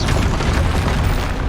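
A heavy, booming explosion from the Confringo fire spell in Hogwarts Legacy erupts up close, deep and rumbling with a crackling burst that fills the moment without speech.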